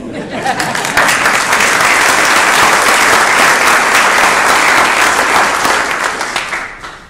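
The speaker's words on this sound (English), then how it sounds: "let you just applaud her for putting up with me" A Rotary club meeting audience breaks into loud, sustained applause lasting several seconds, a dense even roar of claps that swells quickly and fades at the end.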